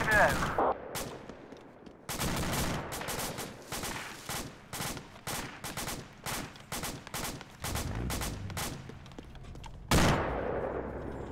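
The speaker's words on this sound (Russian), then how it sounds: "вот смотри, куда я стреляю" Rifle fire in the ArmA II military shooter, a long run of sharp, loud single shots at a steady rhythm after a short pause, ending with one heavier report.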